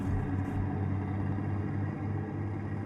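Low, steady engine rumble of a Ford 1210 truck in the Euro Truck Simulator 2 driving game, a thick droning tone held at an even level without pauses.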